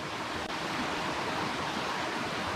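A mountain stream in the Tatras runs full after night storms and heavy rain, making a steady, even rushing hiss of flowing water with no voices.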